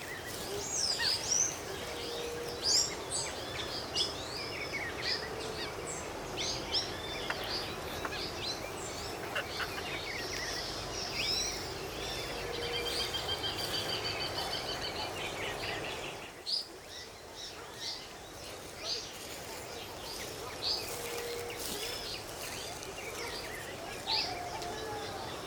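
Birdsong in the Atlantic Forest along the Trilha do Ouro, a dense steady chorus of high chirps and trills with insect buzz throughout, moderately loud and continuous with no talking.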